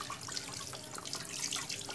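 Water runs steadily from a tap into a sink, splashing and gurgling as a whole chicken is rinsed under the stream, close and fairly quiet.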